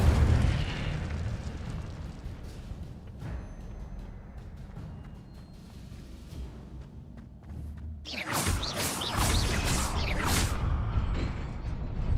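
A burst of fire from the Incendio spell in the Hogwarts Legacy video game flares up loudly after a rumbling low backdrop, with crackling, popping bursts trailing over several seconds.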